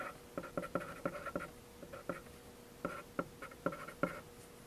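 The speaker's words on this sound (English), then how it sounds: "We'll write the binomial twice." A math equation for a quadratic review is written out by hand in quick scratchy strokes, bursts of pen-on-surface scraping in uneven clusters over a steady low hum, with no talking.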